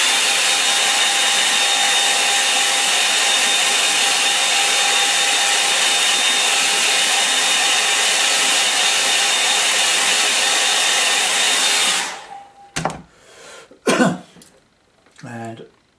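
A hair dryer blows a steady, loud whoosh over a watercolour painting for about twelve seconds, then cuts off, leaving brief knocks and a throat-clear in a quiet room.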